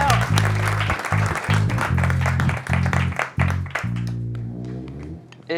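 A studio audience at a French television broadcast applauds. The clapping is dense and steady over loud music and fades out near the end.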